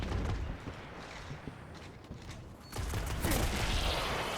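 Weapon fire in the video game Destiny's Wrath of the Machine raid, bursts of rapid gunshots with crackling impacts, a quieter stretch, then a dense loud barrage of shots near the end.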